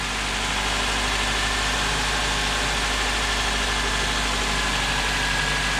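A 7th-generation Honda Accord engine idles after surging, making a loud, steady, close drone with a constant low hum and no speech.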